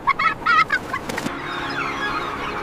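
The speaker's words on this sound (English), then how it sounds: "Barnacle Goose often stay paired for years." Several honking barnacle goose calls in quick succession, loud and close, then fading into a softer background of distant calls.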